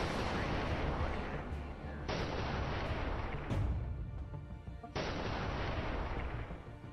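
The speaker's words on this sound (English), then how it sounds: "we're shooting down quite a few of their SU-24s." Weapons fire in the Command Modern Operations war game as SU-24 jets are shot down: continuous heavy booming and gunfire bursts filling the whole stretch, loud and dense, with abrupt cuts between blasts.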